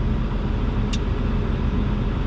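A Cummins diesel truck engine sits idling with a small coolant leak, a steady broad low rumble filling the space close by, with a brief faint high hiss near the middle and no talk.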